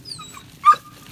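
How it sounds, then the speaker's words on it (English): A rescue dog on a farm lets out a short whimpering yip, a thin whine trailing after it, brief and fairly close in an otherwise quiet space. "He's our rescue dog."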